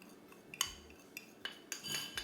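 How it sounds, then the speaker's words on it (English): A utensil stirs flour, cinnamon, nutmeg and salt together in a bowl for a peach pie filling. A few soft scrapes are broken by sharp, close clinks of metal against the bowl, with no talking. "In this bowl I have the flour, cinnamon, nutmeg, salt. I'm going to go ahead and give that a good mix."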